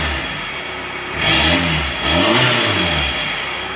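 A 2014 Volkswagen Jetta TDI Sportwagen diesel engine revs twice through a Rawtek aftermarket exhaust, rising to a throaty roar and dropping back to idle, close up.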